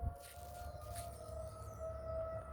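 A Federal Signal tornado siren in Jackson, Tennessee wails from a distance as a steady, sustained tone that holds throughout, faint and unbroken, with no talking over it.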